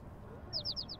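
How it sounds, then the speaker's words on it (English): A bird in the video game Little Kitty Big City gives four quick, bright chirps in a rapid run over faint background noise. "Oh, but I do see a bird."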